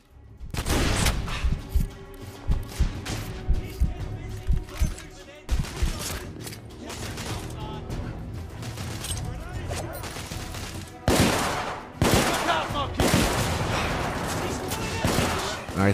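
Gunfire in The Order 1886, dense volleys of heavy shots and rattling bursts with loud booming impacts over about sixteen seconds, close and continuous with brief lulls.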